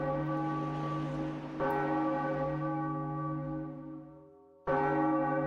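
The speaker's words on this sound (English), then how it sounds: "This is such a cool moment. Ringing the bell." A large bell rung in The Legend of Zelda: The Wind Waker tolls with a rich, sustained harmonic ring that fades slowly, then is struck again near the end, loud and alone.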